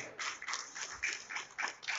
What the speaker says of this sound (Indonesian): Kita berikan sekali lagi tepuk tangan yang paling meriah untuk Bapak Anies Rashid Baswedan